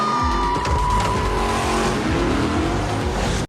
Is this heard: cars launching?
yes